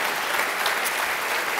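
Brief burst of audience applause at a Christmas special comedy show, dense steady clapping from a crowd with no break over under two seconds.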